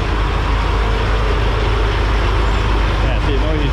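A noisy truck idles nearby beside a road, a loud, steady low engine rumble that never changes, with a voice speaking over it.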